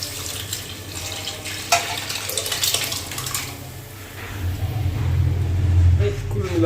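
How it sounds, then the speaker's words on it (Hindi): Cooked dal is poured into a pan of onion-tomato tempering in a home kitchen, a continuous wet pouring and sloshing sound close by, while someone talks over it. "और अब बस इसमें ये दाल डाल देता हूँ।"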